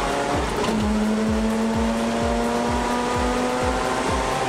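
A car brakes on the wet Winton race track, its engine droning steadily with a sustained tone while a regular series of low thumps repeats close by throughout.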